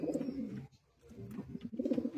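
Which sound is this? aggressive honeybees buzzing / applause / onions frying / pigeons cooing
pigeons cooing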